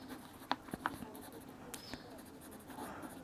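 A pen scratches quietly across paper while Pythagoras' theorem is worked out in a class 10 trigonometry lesson, giving a few short, faint strokes over a low room hum.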